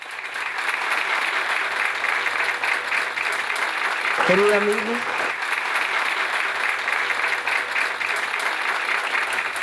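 A crowd gives a strong round of applause to welcome a speaker to the stage, steady and continuous throughout, with a brief spoken greeting partway through.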